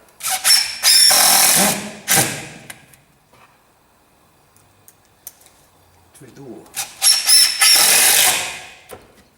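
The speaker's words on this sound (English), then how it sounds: "Now I've got to drill some holes." Two loud bursts of a power drill drilling holes in a Rover SD1 door, one near the start and one near the end, with a quieter stretch and a brief spoken phrase between them.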